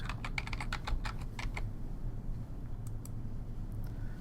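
Login credentials are typed on a computer keyboard: a quick burst of crisp key taps, then a pause and a few more scattered keystrokes, close and clear over a low room hum.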